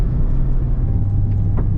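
2024 Mazda MX-5 GT RS with a manual gearbox, engine heard from inside the cabin as a steady, loud low drone and rumble that holds throughout without changes in pitch.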